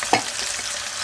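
Ginger-garlic paste fries in oil for chicken pickle, giving a continuous, close, hissing sizzle with a brief stirring scrape near the start.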